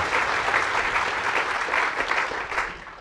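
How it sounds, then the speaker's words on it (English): Audience applause for Bruce at a community event, a steady dense wash of many hands clapping together for the full length, fairly close and even in loudness. "a round of applause for Bruce"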